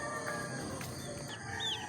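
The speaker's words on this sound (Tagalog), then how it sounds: "Yung ating mga alagang manok." Pet chickens at dawn fill a busy outdoor morning with clucks and crowing calls from a rooster, layered over constant background noise.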